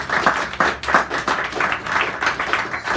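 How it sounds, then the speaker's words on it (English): Audience applause at a cafe poetry hour, a small group clapping nearby with individual claps distinct in a loose, uneven rhythm. "Give Steve a nice round of applause"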